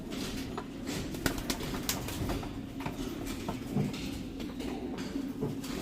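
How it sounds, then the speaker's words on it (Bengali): Home-bred pigeons cooing softly in a loft, several low murmuring coos under clattery background knocks and rustling, fairly quiet and close. "দেখো পায়রা দেখো"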